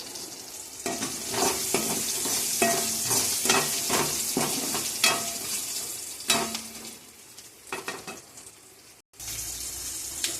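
Small onions sizzle with salt in a pan, a steady frying hiss broken by repeated scraping stirs of a spatula, fairly close, then a brief cut near the end before the sizzling resumes.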